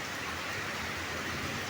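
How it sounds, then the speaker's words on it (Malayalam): Heavy, steady rain falling outside above a road below on a still, low-wind day, a continuous even wash of rain noise at moderate level, with no voices. "ഇവിടെ നല്ല മഴയാണ്, രാവിലെ പിടിച്ച മഴയാണ്."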